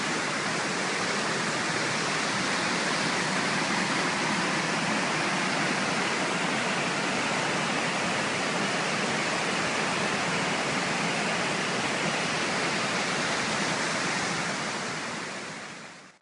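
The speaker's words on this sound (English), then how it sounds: "this is where the river, it's actually called Coldwater Creek, flows into it" Coldwater Creek, a mountain river, roars steadily into the far end of a lake as it rages down from the mountains: a loud, continuous broadband rush of water with no pauses and no voices.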